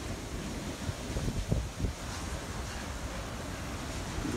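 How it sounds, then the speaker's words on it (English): Strong hurricane wind roars steadily near a wind turbine during Hurricane Maria, with broad, continuous noise and heavy microphone buffeting, plus a few low gusty thumps in the middle. "The wind has picked up."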